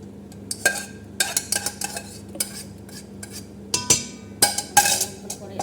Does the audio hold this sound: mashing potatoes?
yes